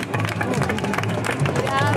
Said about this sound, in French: On le remercie, on l'applaudit.